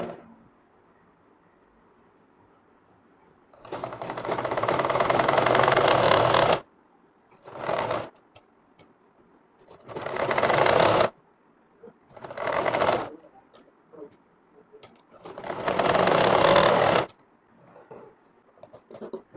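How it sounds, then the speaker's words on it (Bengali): A sewing machine running in loud, close whirring bursts of varying length, five runs separated by short silences, as a frock is stitched at the neckline. "তারপরে এখানে চাপ সেলাই দিয়ে দিবেন"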